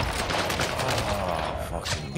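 Gunfire crackles in rapid bursts in Call of Duty Warzone on Rebirth Island. The shots are loud and close, and a player shouts over them.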